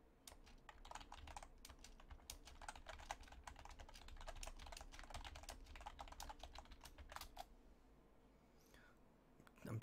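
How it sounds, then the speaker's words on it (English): Fast, continuous typing on a computer keyboard during a Cities: Skylines game stream, dense key clicks close to the mic, quiet overall with no speech. "I'm typing at you."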